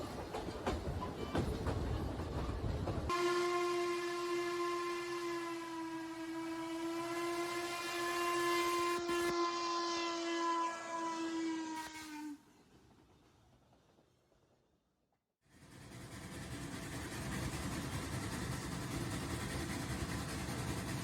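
Steam locomotive number 1309 of the Western Maryland Scenic Railroad sounds a long, loud, steady chime whistle for about nine seconds over rumbling wheels and chuffing, then the rolling train noise returns after a short quiet gap.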